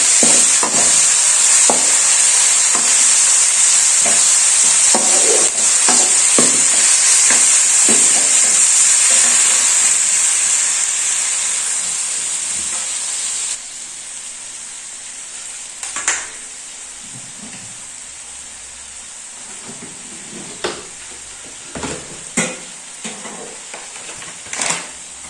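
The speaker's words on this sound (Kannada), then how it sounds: "ಆಮೇಲೆ ನೀವು ಮೀನು ತಲೆನ ಹಾಕ್ಕೊಂಡು ಫ್ರೈ ಮಾಡ್ಕೊಬೇಕಾಗುತ್ತೆ" Marinated fish heads fry in an oil-filled pan for a raw fish head fry, a loud, steady sizzle that drops to a softer crackle partway through, with occasional clinks and scrapes of stirring.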